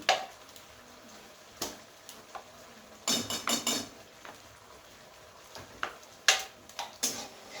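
Butter and garlic white sauce being stirred in a pan, with scattered light clinks and scrapes of a utensil against metal, quiet bursts spaced irregularly over a faint background.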